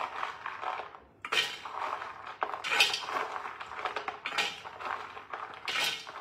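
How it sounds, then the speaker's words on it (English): Raw cashews, about 150 grams, tipped into a bowl give a run of hard rattling clatters in several quick bursts, close and moderately quiet. "So we're going to chuck about 150 grams of cashews in here."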